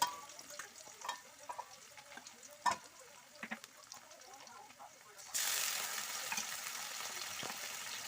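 Chopped onion frying in a pan for aloo dum, with intermittent stirring clicks and scrapes at first, then a loud, steady sizzle that takes over for the last few seconds.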